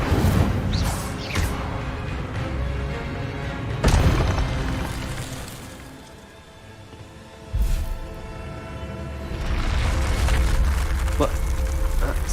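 Incendio fire spells cast in Hogwarts Legacy, several loud whooshing bursts of flame separated by a few seconds, each swelling then fading into a rumbling roar, with a voice talking over them.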